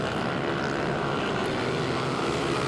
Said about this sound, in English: A real variety of pit bikes here out in this race in the 140 stock class.